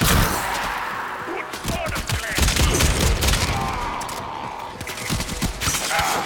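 Rapid weapon fire in Warframe during solo survival gameplay, a loud dense stream of shots and impacts layered with game effects, continuing steadily throughout.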